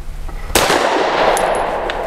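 A single sharp pistol shot from a Canik METE MC9, loud and close, cracks and then rings out in a lingering echoing tail.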